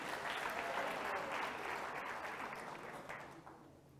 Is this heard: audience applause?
yes